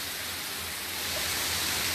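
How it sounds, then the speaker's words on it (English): Heavy rain pours down on a city street in a steady, dense broadband wash that swells slightly louder partway through, with no voices. "Sound like the rain slacking up, huh?"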